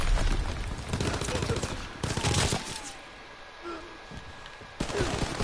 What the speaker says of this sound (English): Enemy mortar fire incoming. Fall back. Shit, artillery.